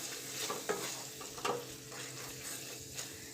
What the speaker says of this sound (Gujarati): હવે બધું સરસ મિક્સ કરી લઈશું